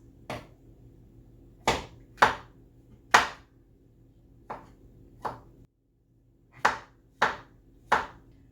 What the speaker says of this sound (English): So out of one medium mushroom, I get about 6 little slices